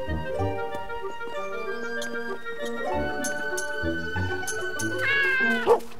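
A cartoon cat meows in the puzzle adventure game Lost in Play, a rising tonal call near the end over light game music with clinking chimes and soft voices.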